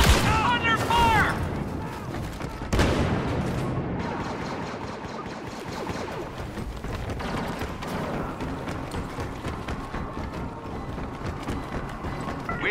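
Blaster and gun fire from a Star Wars Battlefront battle crackles in a loud, continuous stream of rapid shots, with brief in-game voices over the barrage.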